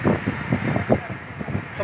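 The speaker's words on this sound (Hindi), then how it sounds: "कितना ज़बरदस्त मौसम है, बड़ी तेज हवाएं जो हैं चल रही हैं" Strong gusty wind buffets the microphone before the first monsoon rain in a village, a steady low roar broken by repeated rumbling bursts at close range.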